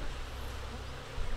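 Dense droning buzz of a swarm of bees in The Secret Order 2: Masked Intent, a steady, close hum holding level throughout, slightly louder at the very end, with no talking.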